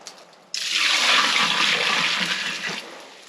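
Water poured into a bucket while mixing hemp lime plaster, a sudden start into a steady splashing gush that runs for a few seconds and then tapers off, loud and close.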